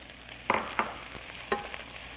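Mushrooms land in a pan of spinach cooking down for a quiche, giving a steady sizzle broken by a few short scraping stirs.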